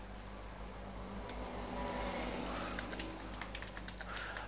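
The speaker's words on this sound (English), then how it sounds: "type something." Keys clatter on a computer keyboard in steady, close bursts of typing over a low background hum, with no one speaking.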